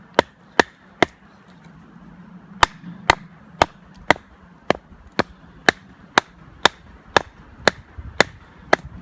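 Habilis SRT Gen 1 knife chopping heavy duty timber, a steady series of about eighteen sharp close loud thwacks at roughly half-second intervals with no talking.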